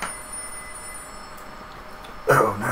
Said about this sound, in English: Answer it before it goes to the answering machine.